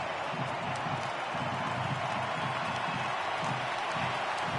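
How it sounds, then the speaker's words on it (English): A crowd roars steadily in a baseball video game as the count reaches three balls and two strikes, a dense, unbroken wash of cheering and clapping that fills the whole stadium. "Crowd gets up for the 3-2."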